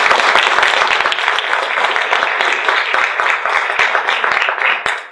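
An audience applauds a seminar speaker after a talk on CCD photometry and piezoelectric lithography, a loud, dense, continuous roar of many hands clapping that holds steady throughout before tapering at the very end.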